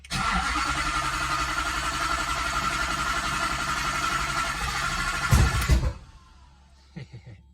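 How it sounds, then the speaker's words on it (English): A twin-turbo V8 swapped into a Ford Focus project car runs loudly and roughly, gives a sharp burst of backfire pops near the end, then drops to a quiet idle with a few more faint pops. "Backfire."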